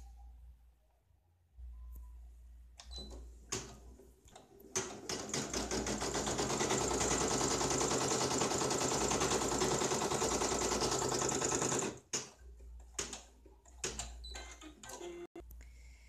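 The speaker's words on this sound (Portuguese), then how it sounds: "Ele vai marcar onde que é para eu colocar o tecido." A Brother PE810L embroidery machine stitches an appliqué with fabric, running loud and steady for about seven seconds in a dense rapid whir between brief start-up taps and stops.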